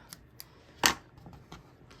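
A single crisp snip of scissors cutting off crochet yarn near a granny square, brief and close, surrounded by faint small handling clicks in a quiet room.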